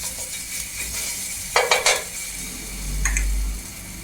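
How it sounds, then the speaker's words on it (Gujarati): Garlic chutney sizzles softly in a spoonful of oil in a pan. A few sharp clinks of a utensil against the pan break through the low frying hiss. "એમાં આપણે તેલ મૂકી દીધું છે 1 ચમચી અને આપણે લસણની ચટણી મૂકી"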